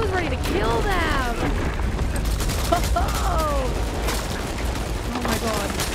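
Sustained gunfire from the Uncharted 4 video game, dense bursts and rattling shots mixed with game effects, running continuously under a player's excited talking.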